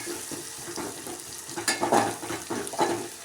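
Chili thecha sizzling and frying in a pan for chakvat greens, a steady crackle with a few louder stirring scrapes near the end, no talking.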